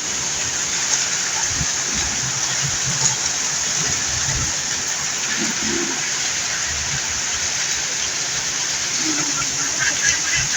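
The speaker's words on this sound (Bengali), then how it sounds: "প্রচুর বৃষ্টি এবং সেই সাথে ঝোড়ো হওয়া" Heavy rain pours down with gusty stormy wind during a thunderstorm in Jhenaidah, Bangladesh, a dense, loud and constant wash of water noise with faint voices underneath.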